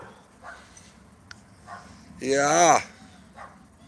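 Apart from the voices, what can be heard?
dogs barking in the background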